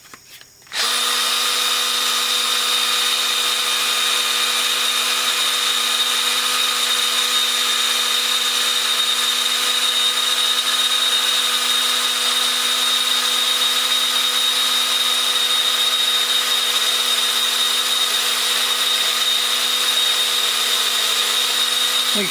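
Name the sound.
part spinning in a drill chuck, sanded with sandpaper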